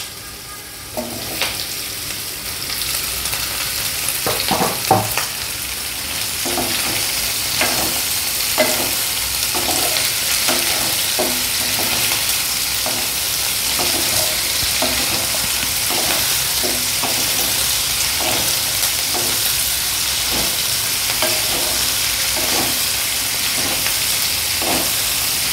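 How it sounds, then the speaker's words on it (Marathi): Tomatoes sizzle and fry in a pan of soya masala, a steady loud hiss running throughout with irregular scraping stirs and clinks of a spoon against the pan. "आता आपण ह्याच्यात टोमॅटो घालूया।"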